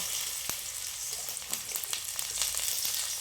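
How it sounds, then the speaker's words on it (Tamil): Ginger and garlic sauté in a pan with a steady, close sizzle, broken by a few sharp ticks and pops as the pieces are moved around. "இஞ்சி பூண்டு கொஞ்சம் போட்டுக்கிட்டு நல்லா கொஞ்சம் அப்படி வதக்கி விட்டுக்கலாம்"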